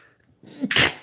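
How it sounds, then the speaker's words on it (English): A single sharp, close sneeze bursts out after a short quiet moment, loud and breathy with a quick fade. "That was a sneeze."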